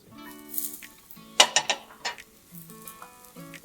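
Pans are swapped on a stove during a mushroom risotto: a soft sizzle runs underneath as a quick burst of metallic clanks and clinks sounds close by, followed by a few lighter knocks.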